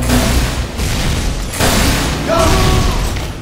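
Explosive booms from Team Fortress 2 rocket jumping, a dense series of loud blasts and rumbling impacts layered with game noise and brief tonal effects.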